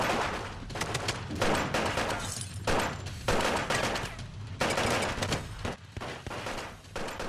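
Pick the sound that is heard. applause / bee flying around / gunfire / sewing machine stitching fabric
gunfire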